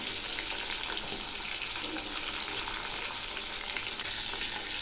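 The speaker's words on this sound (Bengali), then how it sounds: "এক পাশ ভাজা হয়েছে, এবার আমি উল্টে দিচ্ছি" Hilsa and rohu fish pieces frying in oil, one side done and then turned, giving a steady, even sizzle throughout at moderate level with no talking.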